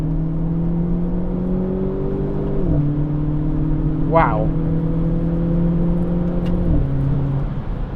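Renault Clio 220 Trophy engine droning steadily in second gear under manual control, the note dipping at a gearshift partway through and again near the end, with a short exclamation from a voice over the cabin hum.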